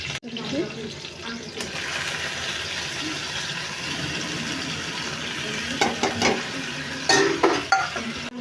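Moong dal and green chili pieces sautéed in a pan for a dill leaf vegetable dish, a steady sizzle with stirring scrapes and a few sharp clinks of utensil against the pan near the end.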